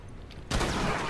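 A shotgun in a multiplayer video game fires once: a sudden loud broadband blast breaks a quiet background and leaves a short rumbling tail.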